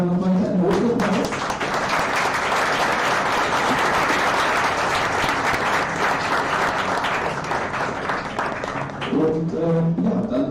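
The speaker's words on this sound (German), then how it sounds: "Nochmal einen Applaus." An audience at an Astronomy on Tap Bonn evening applauds after a talk, with loud, sustained clapping throughout; a voice speaks briefly at the start and again near the end.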